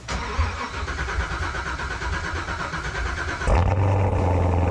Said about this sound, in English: I think it's about time to get this thing started up. Okay. Yeah, let's give it a cold start.